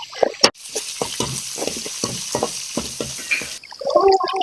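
Onions fry in a pan for Tamil egg rice, stirred with a rapid, regular series of scraping strokes over a soft sizzle, ending in a brief burst of different, louder kitchen noise.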